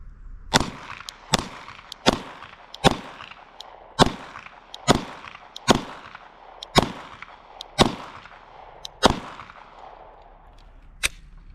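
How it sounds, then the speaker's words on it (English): Glock 19 Gen 5 pistol fired at a target, about thirteen sharp, loud shots at a steady, slightly uneven pace roughly one per second, each cracking and decaying quickly outdoors, no talking. "Man, I like shooting this gun."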